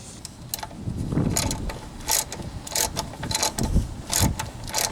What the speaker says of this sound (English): Let's go ahead and take our socket, loosen that up